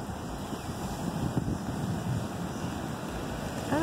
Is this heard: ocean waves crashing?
yes